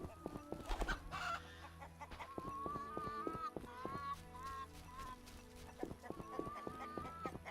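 Chickens cluck in a series of short, bright calls over steady background music, with faint hoof-like clip-clop sounds mixed in.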